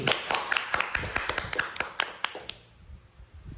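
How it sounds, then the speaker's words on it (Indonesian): A short burst of sharp, uneven claps from a small school class, loud and close, fading out after a couple of seconds. "Beri tepuk tangan buat kelompok Aldi."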